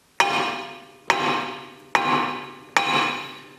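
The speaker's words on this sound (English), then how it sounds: "Now I'm going to take a hit from the back and see if that helps at all." Four heavy metallic hammer blows struck from the back against a stuck brake rotor on a Honda Accord, each sharp clang ringing out and decaying before the next, evenly spaced and close.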